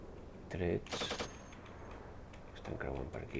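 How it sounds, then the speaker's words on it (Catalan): Gunfire in the tank simulation game Steel Beasts Pro, a burst of rapid shots followed by further scattered reports, heard under and between spoken voices. "Trets."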